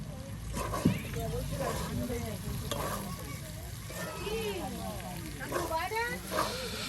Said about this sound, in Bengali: দেখুন এই মাংস এখন আপনার সেই আলু কুচিতে উলট পালট করে নেওয়া হবে।